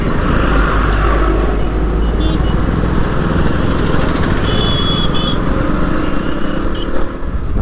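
Loud, steady road traffic rumble on the highway between Chebrolu and Ponnur, with engines of cars and motorbikes blending into a continuous roar close by and occasional brief higher tones over it.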